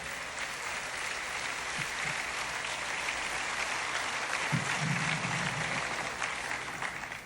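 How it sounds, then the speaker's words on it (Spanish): A church congregation applauding at a conference, sustained dense clapping from a large crowd that holds steady throughout, with a few faint voices underneath. "Dele el aplauso al Señor."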